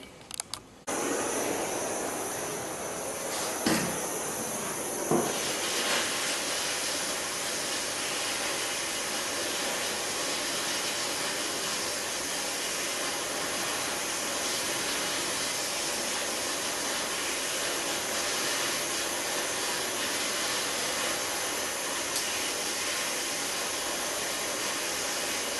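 Propane torch heating exhaust headers, a steady broadband roaring hiss that runs continuously and fairly loud after a brief sputter and a couple of clicks at the start, with no talking.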